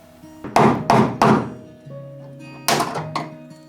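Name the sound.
wood chisel working on a 1968 Porsche 912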